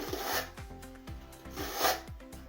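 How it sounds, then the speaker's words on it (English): Hand file shaping a stringer notch on a Stevens Aeromodel G-480 RC airplane kit, a series of about five close, rasping strokes in a steady back-and-forth rhythm with no talking. "It only takes a few swipes with this file"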